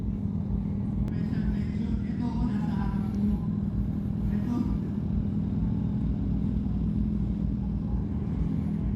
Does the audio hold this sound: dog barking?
no